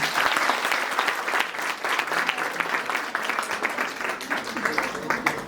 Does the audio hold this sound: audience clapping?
yes